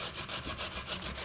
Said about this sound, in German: Wir nehmen eine Kartoffel, nehmen die grobe Seite der Reibe und reiben jetzt die Kartoffel einfach runter.